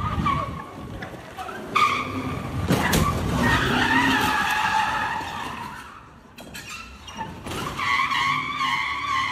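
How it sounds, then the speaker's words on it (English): A BMW skids and crashes into a Toyota on a New York City street in daylight, with loud, wavering tire squeals and scraping over traffic noise, broken by sharp impact bursts. "BMW is crashing into a Toyota car."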